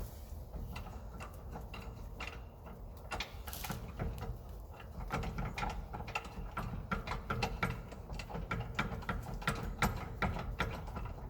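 Quick clicking of a ratchet loosening a rear hub bolt on a 2009 BMW 750i, a dense run of small metallic ticks that grows busier and louder in the second half, close and fairly quiet.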